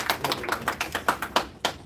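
At a Pakistani human resource seminar in Osaka, Japan, only a few people clap: about ten sharp, separate hand claps in an uneven rhythm, close and fairly quiet, with no talking.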